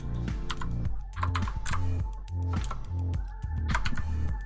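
Rapid clicking keystrokes on a computer keyboard while setting up an Emax Tinyhawk S drone, the taps close and steady over a looping tonal hum that runs throughout.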